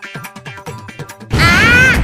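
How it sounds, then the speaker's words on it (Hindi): Cartoon firecracker blast bursting out of a small box in a classroom: after a stretch of lively chatter, a sudden loud crash-like explosion hits and holds as a dense, roaring burst with a warbling tone over it. "इस बॉक्स में था पटाखा"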